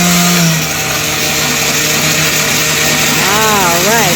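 Garlic being chopped in a blender for toum garlic sauce: a steady, loud motor whir runs continuously throughout, with a voice briefly speaking near the end.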